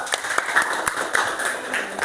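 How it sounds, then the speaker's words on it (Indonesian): Students in a classroom clap for the second presentation group, a thin, scattered patter of hands with a few sharper claps standing out, fairly quiet and brief. "Tepuk tangan kelompok 2"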